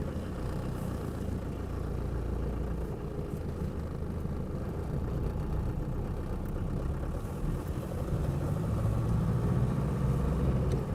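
A 1959 Mercedes with a manual four-speed gearbox pulls away. Its engine gives a low, steady rumble that swells slightly toward the end, heard alone and close.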